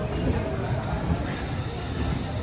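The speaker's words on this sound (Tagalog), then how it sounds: "This is our train going to Jiaoxi." A train runs on rails toward Jiaoxi, Taiwan, a steady rolling rumble with faint wheel squeal, moderately loud and continuous for a few seconds.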